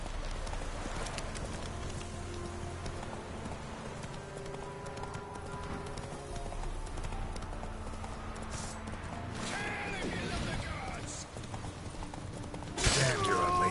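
Roach, the horse in The Witcher 3, gallops in a continuous rhythmic clip-clop of hooves with game music and noise behind it, ending in a brief loud burst; a voice talks over it.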